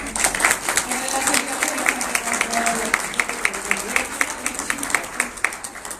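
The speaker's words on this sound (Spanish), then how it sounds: "Les pido un fuerte aplauso para ella" An audience at a panel discussion on science communication claps steadily, the sharp claps carrying a regular rhythm while a voice talks over them.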